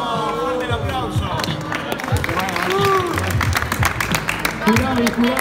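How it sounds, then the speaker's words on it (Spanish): Crowd applauds and cheers at a rap battle qualifier, clapping and shouts filling the room under loud continuous voices through the moment. "¡Fuerte el aplauso!"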